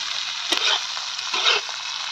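Chili peppers frying in hot oil for a lime pickle, a steady close hiss and sizzle that swells briefly twice as the peppers are stirred, with no talking.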